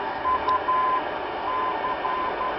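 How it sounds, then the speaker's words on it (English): A longwave NDB radio beacon sends a 400 Hz tone as a steady keyed whine in short and long dashes, heard faintly through band hiss and static on a Zenith 790 Royal receiver with a passive loop antenna. "It's a 400 hertz tone and a long carrier with a CW ID."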